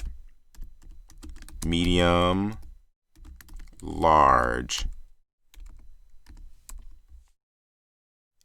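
Rapid, uneven keyboard clicks of typing on a computer keyboard, close by, with a person speaking intermittently over them.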